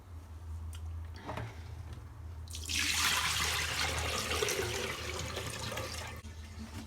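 Water runs steadily from a tap into a sink while an old wig is washed, a loud broadband rush that starts a few seconds in and keeps going, with a low hum underneath.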